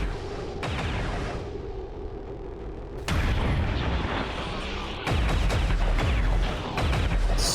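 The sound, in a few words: gunfire from the video game XCOM 2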